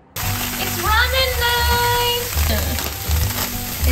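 Tofu fries in a pan for ramen night, a loud, close, continuous sizzle that starts abruptly, while voices talk faintly over it.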